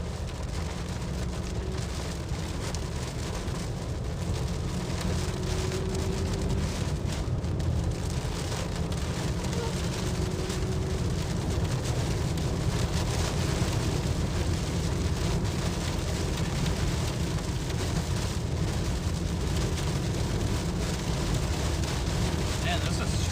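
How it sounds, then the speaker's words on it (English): Heavy rain and wind batter a car driving under a shelf cloud near Alma, Kansas, a dense, steady roar that lasts throughout, with faint voices beneath the downpour. "We're gonna punch through some rain again."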